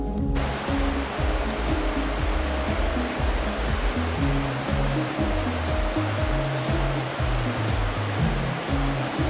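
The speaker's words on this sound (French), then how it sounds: "Bercé par les clapotis de la rivière qui coule à ses pieds" The river flows below the stone village of Labeaume in the Ardèche gorges, a steady, close rush of water that stays constant throughout with no voices.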